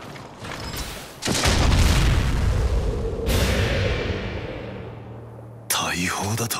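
A heavy booming blast erupts and rumbles on for several seconds like cannon fire from a prosthetic arm cannon in the video game Berserk and the Band of the Hawk, followed by a warbling mechanical whine near the end.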